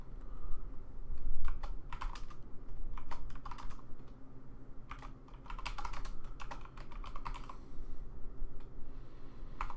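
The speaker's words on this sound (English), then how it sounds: "now I have to like type around it." Quick bursts of clicking keystrokes on a computer keyboard, typed close to a desk microphone, come in uneven clusters with short pauses, steady and fairly close, with no talking.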